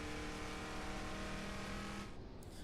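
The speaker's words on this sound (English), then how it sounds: "Truck sounds like it runs NASCAR." A truck engine in the Ranch Simulator video game revs hard with a loud, throaty, race-car-like roar held steady for about two seconds, then cuts off abruptly.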